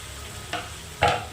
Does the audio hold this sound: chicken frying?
yes